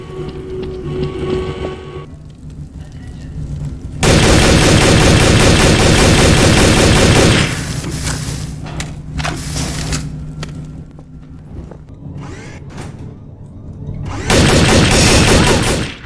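Rapid automatic gunfire in the shooter game Trouble in Terrorist Town, loud sustained bursts of machine-gun fire broken by quieter stretches of scattered shots and in-game noise.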